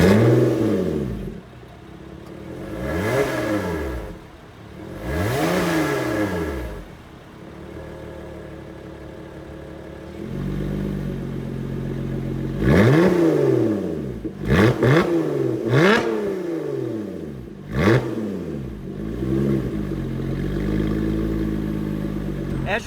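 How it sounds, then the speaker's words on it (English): A 2018 Lotus Evora 400 sports car with carbon fiber trim revs hard in a series of rising and falling engine sweeps, loud and close, with sharp blips in quicker succession toward the end. "Let's take a look at the sound of the car."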